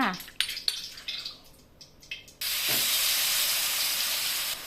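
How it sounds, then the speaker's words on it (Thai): Chili paste goes into hot oil in a wok for Thai shrimp chili stir-fry. A few clattering stirs come first, then a sudden loud, steady hiss of frying takes over and holds to the end. "นำน้ำพริกลงไปผัดเลยค่ะ"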